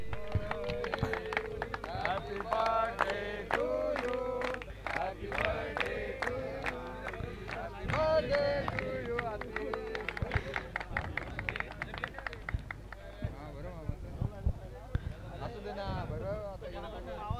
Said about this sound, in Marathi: चला जोरदार टाळ्या होऊन जाऊ द्या.